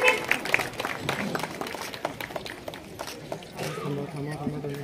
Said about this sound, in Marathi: एकदा सगळ्यांनी जोरदार टाळ्या वाजवूया.